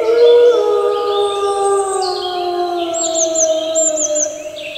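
A wolf howls in pain after dropping down a chimney into hot water, a loud, drawn-out howl with wavering, sliding pitch that sustains for several seconds, with no talking.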